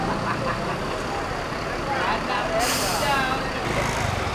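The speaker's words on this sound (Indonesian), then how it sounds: "Bus Sempatistar dengan mesin Scania K360" Sempatistar intercity bus with a Scania K360 engine idling at a terminal before departing for Medan, a steady diesel rumble with a sharp hiss of air brakes partway through, under someone talking.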